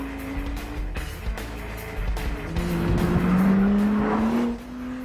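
Honda NSX with four-wheel drive pushed hard into a corner, engine note climbing with a rising tone and tyres squealing as it loads up, loud and close before easing off at the end.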